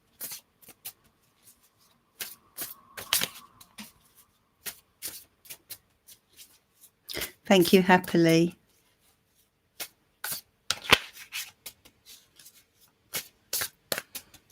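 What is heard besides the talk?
tarot cards being shuffled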